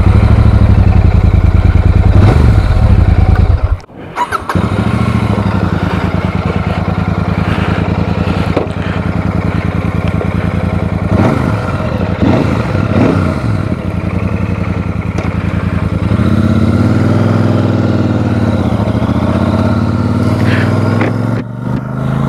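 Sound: motorcycle engine starting and idling

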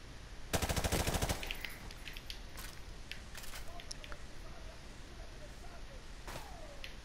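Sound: enemy gunfire in video game Call of Duty Modern Warfare Remastered

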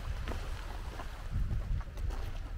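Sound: ocean waves breaking right in front

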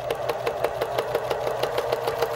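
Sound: sewing machine straight stitching through fabric and stabilizer

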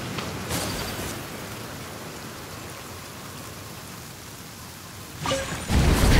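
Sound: rain in a video game

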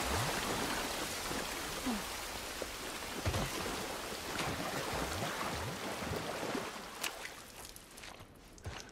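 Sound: rain falling in the video game The Last of Us Part I

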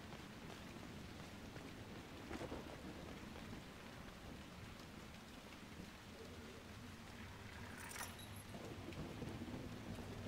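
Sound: thunderstorm with rain, from video game Dragon Age: Inquisition

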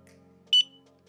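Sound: barcode scanner beep

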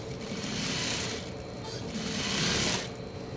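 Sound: sewing machine stitching seams on a shapewear girdle

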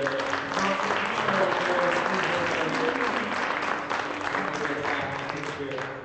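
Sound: audience applause during a church photo

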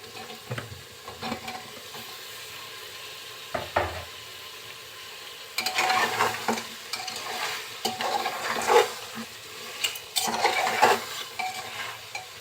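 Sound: beef and new potatoes being stir-fried in a pot

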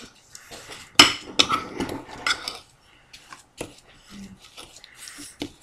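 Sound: mixing sugar lip scrub in a container

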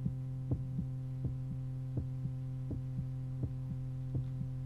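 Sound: heartbeat

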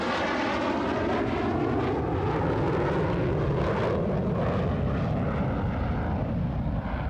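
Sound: General Dynamics F-16 fighter jet aircraft engine

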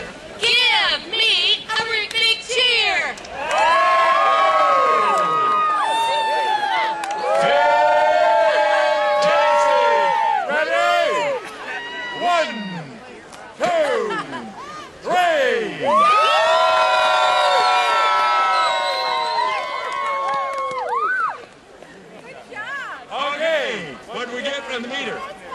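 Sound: crowd cheering

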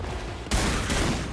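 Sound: shotgun firing in video game PAPERHEAD

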